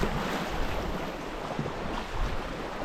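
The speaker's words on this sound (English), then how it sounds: "the choppy water is making it really difficult." Choppy lake water on Bennett Lake in the Yukon, a steady broadband wash of chop and wind buffeting the microphone, continuous and close with no clear individual waves.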